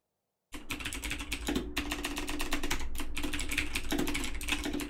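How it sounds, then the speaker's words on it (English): Rapid clicking of typing on a mechanical keyboard, close and steady with dense keystrokes after a brief silence, continuing without pause and with no talk. "That mechanical keyboard's not me."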